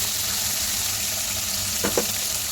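Puti fish frying in a pan of oil, a steady broadband sizzle with a couple of brief stirring clatters near the end, close and continuous with no voices.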